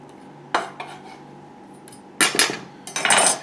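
Diced Granny Smith apples are stirred into muffin batter in a bowl, giving irregular bursts of utensil scraping and clacking against the bowl, loudest near the end, with quiet gaps between strokes.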